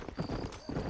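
Hooves of Black Lightning, a fast black horse in the video game Red Dead Redemption, clop in a quick galloping rhythm, two grouped beats of impacts close and moderately loud.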